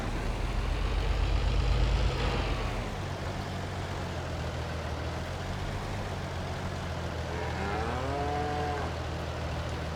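Cattle moo in the video game Farming Simulator 22, with one long, clear, drawn-out moo near the end over a steady low engine-like drone and an earlier rumble.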